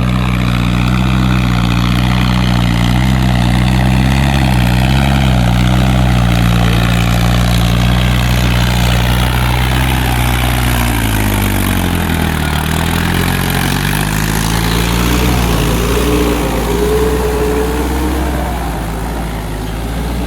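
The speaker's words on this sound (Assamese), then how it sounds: "ভিতৰত ট্ৰেক্টৰৰ নাঙালৰ ভিতৰত সোমাই দিলে চব কাটি কুটি শেষ কৰি দিয়ে" A Mahindra Arjun tractor running a rotavator through dense weeds, its heavy diesel engine droning loud and close without pause, pitch dipping briefly under load midway.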